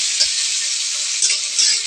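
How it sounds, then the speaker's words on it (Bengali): Onions fry in a pan over a low flame as spices are added, producing a dense, continuous close sizzle with brief crackling bursts and light stirring, with no voices. "পেঁয়াজটা মোটামুটি ভাজা হয়ে গেলে তাতে দিয়ে দিতে হবে এক এক করে মশলাগুলি"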